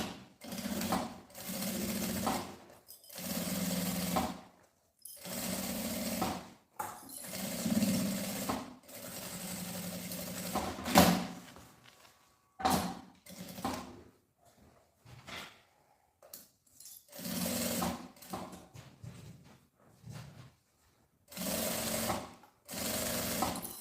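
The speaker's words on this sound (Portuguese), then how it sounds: "Vou passar uma costura com um pé de máquina, lateral, parte da base e lateral" Sewing machine stitching a backpack seam, running in repeated bursts of rapid mechanical whirring separated by short pauses, close and clear, with occasional handling clicks between runs.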